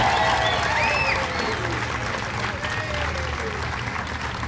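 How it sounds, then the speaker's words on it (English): Audience at a sculpture event clapping and cheering for Beverly, dense sustained applause with whoops and shouts rising over it, steady throughout. "Can we just all clap and just scream for Beverly?"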